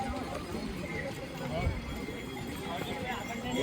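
Horse hooves clip-clop along the crowded Kedarnath pilgrimage trail, a steady soft rhythm set back in a dense wash of crowd babble and outdoor noise.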